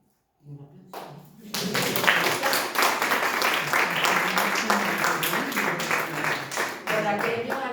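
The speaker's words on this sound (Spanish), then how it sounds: "muchísimas gracias y un aplauso." A Spanish-speaking audience breaks into applause after a talk, the clapping starting abruptly after a brief murmur and continuing loud and dense with sharp individual claps.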